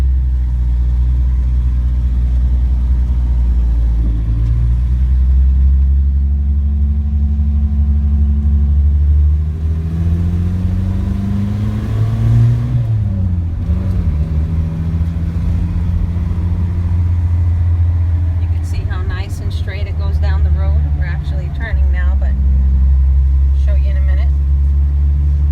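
A Toyota Sunrader pickup truck hauling a trailer on a test drive gives a loud, constant low engine drone with gear-change shifts in pitch, heard from inside the cab.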